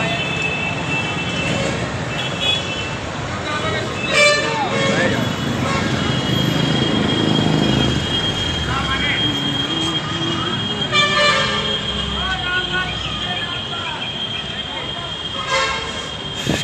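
Busy ambience at Prayagraj railway station near gate 3, with a continuous wash of crowd and traffic noise and repeated horn toots rising above it, while voices murmur throughout.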